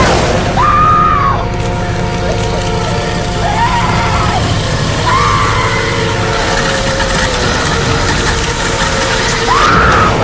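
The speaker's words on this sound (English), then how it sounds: "puts her in there and just shoves her down into the wood chipper" Wood chipper running in a scene from the horror film Silent Night (2012): a loud, steady mechanical roar with dense broadband grinding, broken by recurring rising and falling whines.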